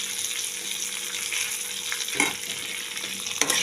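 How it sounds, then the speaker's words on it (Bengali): Potatoes and onions fry in a pan for a spicy Bengali fish curry, giving a steady close sizzle broken by two brief stirring scrapes, with no talk. "এবারে ভালো করে আলু আর পেঁয়াজ আর একটু ভাজা ভাজা করে নেব"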